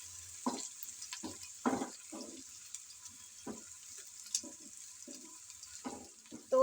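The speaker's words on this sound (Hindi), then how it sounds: "तो 1 मिनट हमने अदरक लहसुन को भी इसके साथ फ्राई कर लिया है।" Ginger, garlic and onion frying in a pan for a potato and egg curry, a faint steady sizzle broken by quiet scraping stirs at uneven intervals, no talking.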